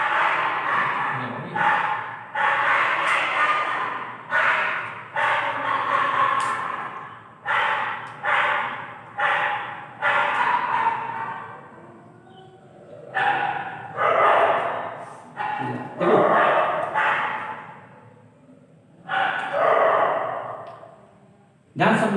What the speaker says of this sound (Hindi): भौंक रहे हैं वो सब, उन पे ध्यान दो